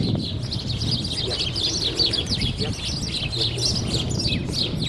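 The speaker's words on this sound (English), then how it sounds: "The birds are really enjoying the nectar of kauai. Having a fight in there." Small birds in a flowering kauai tree chirp and squabble over nectar, a dense run of quick high tweets and chatter that goes on throughout, with a low outdoor rumble underneath.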